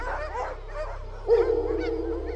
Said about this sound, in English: another dog joins in the piercing symphony every 10 minutes until every last damn canine in the neighborhood is howling incessantly